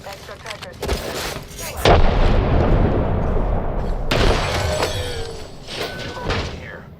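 A grenade explodes in a video game with a loud, close boom that leaves a long rumbling tail. A second heavy crash follows a couple of seconds later, with game clatter and a voice audible around the blasts.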